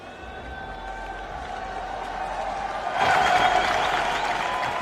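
A stadium crowd at a BMX freestyle spine ramp pro qualification in Montpellier breaks into loud, sustained applause and cheering for a rider who has just crashed, swelling over steady crowd noise midway through.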